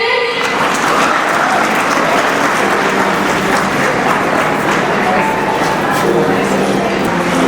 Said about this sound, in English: Keep on clapping, everyone.